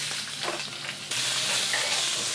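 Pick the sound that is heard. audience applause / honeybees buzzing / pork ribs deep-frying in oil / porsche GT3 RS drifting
pork ribs deep-frying in oil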